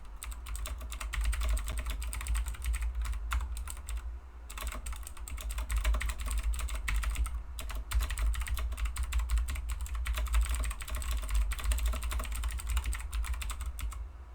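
Rapid, continuous typing on a computer keyboard, close and busy, with a couple of brief pauses and a low hum underneath.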